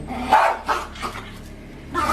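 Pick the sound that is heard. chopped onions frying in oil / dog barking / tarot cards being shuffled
dog barking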